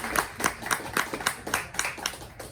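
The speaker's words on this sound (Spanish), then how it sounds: "un aplauso para nuestros panelistas" A small audience at a panel talk on aphasia claps for the panelists, a quick run of sharp, close handclaps with a fairly regular rhythm that lasts a couple of seconds.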